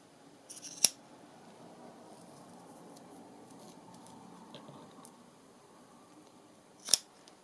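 Scissors trim a piece off an old ledger fabric tag in a quiet room, giving two crisp, close snips several seconds apart with soft handling rustle between.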